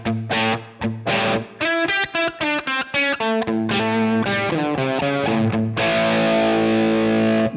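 Electric guitar played through a Line 6 Helix amp model with sag set to zero, a distorted riff of quick picked notes and chord stabs ending in a sustained ringing chord.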